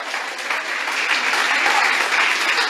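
A church congregation at a Thursday service applauds in a dense, even burst of clapping for a few seconds, close and full.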